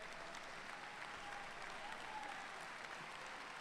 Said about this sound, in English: Give you guys yourself an applause.